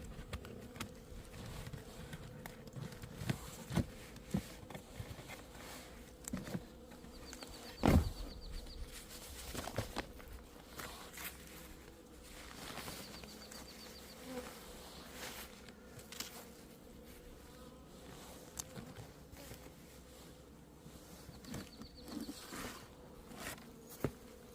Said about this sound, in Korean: 뭐 벌도 한 주먹 정도밖에 안 남았고, 이쪽 벌이 이쪽으로 쏠려올 일은 없습니다.